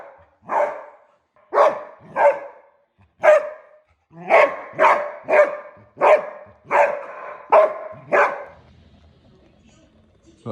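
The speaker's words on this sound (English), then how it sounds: "That was my dog Shamrock" Pet dog barking indoors, about a dozen loud, close barks in an uneven rhythm, some in quick pairs, with quiet gaps between and a softer tail at the end.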